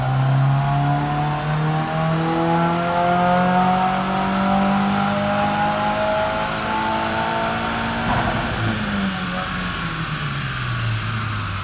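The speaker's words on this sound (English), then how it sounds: "Now let's get a few pulls on the dyno and see what we get." A 2019 Subaru WRX with an ECU reflash revs hard on a dyno, its engine tone climbing steadily in a loud, sustained pull before a sudden shift and drop near the end, with no talking.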